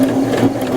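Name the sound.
sewing machine stitching a zigzag seam finish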